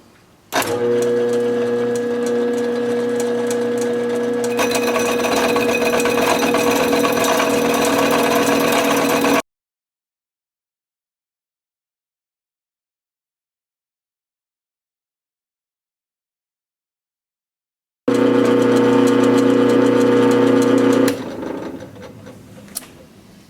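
A drill press set to about 480 RPM, clamped for woodturning an alder bowl, hums steadily with a strong tonal whine, cuts out to silence for several seconds, then starts up again and winds down.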